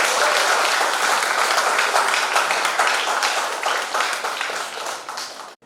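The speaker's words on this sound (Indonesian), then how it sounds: "Kasih tepuk tangan Bapak Ibu." Wedding guests at a church marriage blessing break into sustained, dense applause that stays loud and steady for several seconds before tapering and stopping abruptly at the end.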